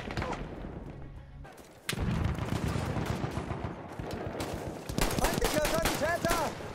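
Rapid gunfire from a sidearm in a shooter video game crackles through a busy mix, repeated shots over dense game noise with a player's voice talking over it.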